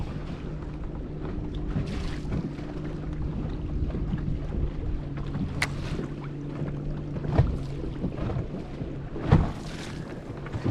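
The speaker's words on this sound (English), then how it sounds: "I got a boat coming towards me" A boat engine drones steadily as the boat approaches nearby, with wind buffeting the microphone and occasional knocks and splashes, no talking.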